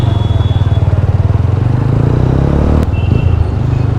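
A TVS Apache RTR motorcycle fitted with dual Akrapovic exhausts idles close by with a loud, rapid, pulsing throb. There is a brief sharp click near the end.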